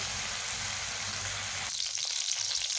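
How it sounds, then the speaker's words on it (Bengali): Chunks of potato and bottle gourd fry in a pan with a steady, even sizzle that runs close and continuous throughout, brightening and thinning slightly toward the end. "আলু লাউগুলোকে আমি আর বেশি ভাজবো না, এখন আমি তুলে নেব।"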